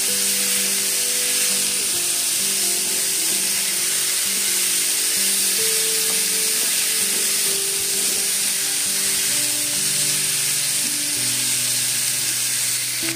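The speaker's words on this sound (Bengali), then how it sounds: "তো এটাকে আমি খুব ভালো করে ভেজে নিয়েছি।" Steady, loud frying sizzle from a pan of dumur alu dalna (fig and potato curry) cooking with garlic and bay leaves, a continuous hiss with light stirring running unbroken throughout, with no voices.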